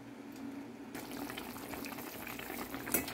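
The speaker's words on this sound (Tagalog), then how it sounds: "At papakuluan natin ito hanggang lumambot ang ating chicken." Chicken pochero simmering in a pot with chicken cubes in the broth, a soft continuous bubbling boil, close and fairly quiet, growing slightly busier toward the end.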